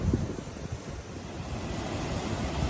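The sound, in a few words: ocean waves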